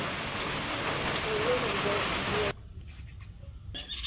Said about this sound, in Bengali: এই বৃষ্টি আর যাবে না, মনে হয় না যাবে।